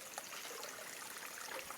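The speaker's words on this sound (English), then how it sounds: "Those are water coming from inside there and going downward to River Migori in Migori there." Water flowing downhill toward the Migori River in a rural farming village, a faint, steady hiss of trickling, babbling stream with no talking.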